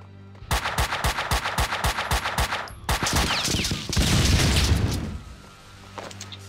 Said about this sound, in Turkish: Patlama efektleri.